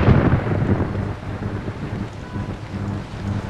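Steady, dense rain roars across the whole clip, a broad wash of noise with low rumbling underneath, loud and continuous with no voices.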